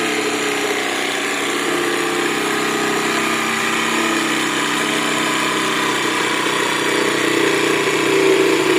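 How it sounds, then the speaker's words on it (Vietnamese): A motorized saw whines steadily and continuously at close range while cutting a small boat part, a constant mechanical drone with no pauses or talking. "đang cưa cái chi tiết gì nhỏ lắm"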